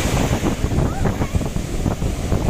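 Ocean waves roll on Talashil beach, a rough, continuous wash of surf heavily buffeted by wind noise on the microphone over a brief stretch.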